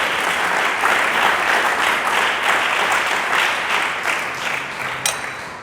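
Church congregation breaking into sustained applause during a pastor's sermon, dense steady clapping from many hands filling the room at an even loudness.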